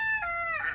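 A rooster in a home garden lets out a single short crow that rises toward the end, clear and fairly close, with no talking.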